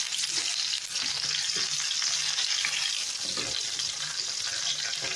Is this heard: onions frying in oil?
yes